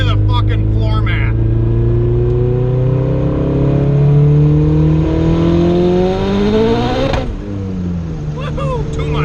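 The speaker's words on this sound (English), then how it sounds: "Fourth gear, start the recording. Here we go, flooring it into the wood" Turbocharged Honda Civic with boost control tuning pulling at full throttle in fourth gear, a loud, rising engine drone with climbing whine held for several seconds, then a sudden drop as power cuts off, with a voice shouting over it.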